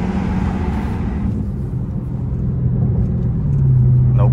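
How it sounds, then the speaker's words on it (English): A Dodge SRT 392 running in track mode with traction control engaged, its V8 holding a steady loud rumble that swells toward the end as it accelerates and the transmission shifts hard, heard from inside the cabin. "This car gets a little louder. Transmission shifts hella hard."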